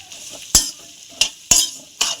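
Goat tripe (boti) frying in a pan gives a steady sizzle, broken by four sharp scraping stirs from a spatula, close and fairly loud with no talking.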